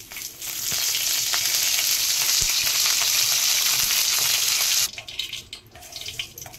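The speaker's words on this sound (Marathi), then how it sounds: "कढीपत्त्याची फोडणी द्यायची." Curry leaves and mustard seeds hit hot oil with a loud, sputtering sizzle that holds for several seconds, then abruptly drops to quieter, scattered crackles.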